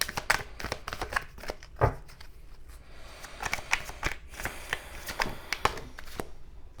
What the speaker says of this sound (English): So I will pull a oracle card now.